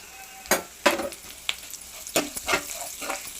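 Okra fry is stirred in a pan with turmeric, giving a quiet sizzle under several sharp scraping and clinking strokes of a spoon against the metal, spaced irregularly.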